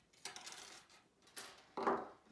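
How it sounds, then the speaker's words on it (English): A small wire cutter snips and handles thin wire taken from soup cans, giving a few quiet, close metallic clicks and scrapes spread over about two seconds, with a sharper snap near the end. "I'm going to use this little"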